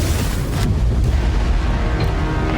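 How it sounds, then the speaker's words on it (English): Heavy cannons on a battle cruiser fire in the Ace Combat 8 video game trailer, producing loud, deep, continuous booming blasts that rumble and overlap for several seconds. "Cannons firing."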